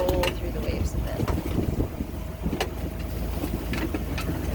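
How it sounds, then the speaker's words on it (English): A sailboat heading into the wind off Mexico bashes through waves, with irregular thumps and splashes over heavy wind buffeting on the microphone and a low rumbling hull noise, close and loud throughout. "We're pretty much head to wind right now, but it means we kind of bash through the waves."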